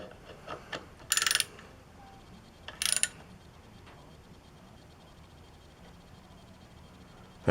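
A wrench snugs the oil drain plug on a Harley-Davidson Softail with two short, crisp bursts of ratcheting clicks close by, set against a quiet garage background.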